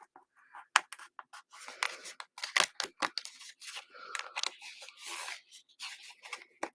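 Scissors snip and slice through paper for a handmade Valentine card, a quick irregular run of close, crisp cuts with short pauses between strokes.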